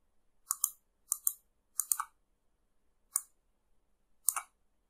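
Sharp mouse clicks, mostly in quick doubles, land in five separate bursts over a few seconds, each close and distinct against near silence.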